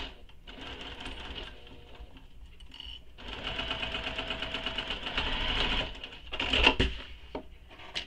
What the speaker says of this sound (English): I started stitching right over top of previous stitches and I back stitched